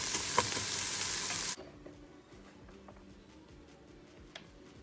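Onions for a chili crackle and hiss in a pan: a loud, bright sizzle for the first second and a half, then a much quieter, softer frying sound with faint ticks.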